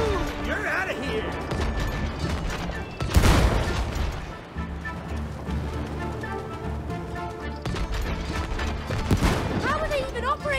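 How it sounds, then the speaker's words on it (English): Cannons firing in the co-op video game It Takes Two, a few booming blasts, one loud burst near the middle and another toward the end, set against busy game music and effects while two players talk excitedly. "They've got cannons, too!"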